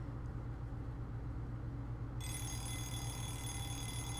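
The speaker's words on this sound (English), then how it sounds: "And that's the alarm." An alarm clock rings in a video game, a steady bright electronic ringing tone that starts partway through and continues, layered over a constant low background hum.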